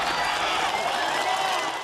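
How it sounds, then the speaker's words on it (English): A group gives a round of applause for the presenting teams during a WHO scholar certification session, a dense, steady wash of clapping that holds evenly from start to finish. "a well-deserved round of applause"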